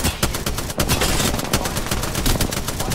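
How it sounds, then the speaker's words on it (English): An artillery strike in Apex Legends hits as a loud, dense barrage of rapid blasts and crackling impacts that keeps going without a break. "artillery strike inbound"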